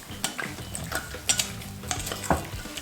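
Chicken marinade being mixed in a bowl, close wet squelching and stirring with scattered light clinks of a utensil against the bowl, irregular and fairly quiet, no talking.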